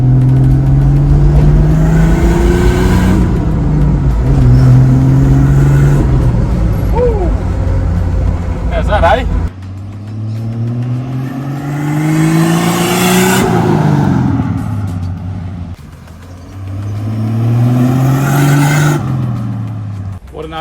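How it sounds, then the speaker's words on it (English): Toyota 80 Series with a big turbo and a Screamer pipe, heard from inside while accelerating on boost. The engine climbs and drops through gear changes, loud and close, and an excited voice talks over it. "the Screamer pipe is sounding pretty nice when you get on boost"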